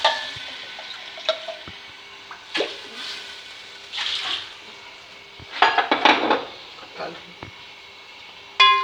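Metal pots clank and scrape in a kitchen while making biryani, with bursts of water splashing into a cooking pot between the clatter.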